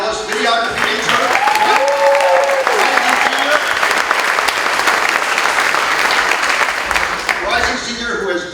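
An audience at a film festival opening night applauds the festival interns with a full, sustained round of clapping, while a voice speaks over the start and a few cheers rise near the end.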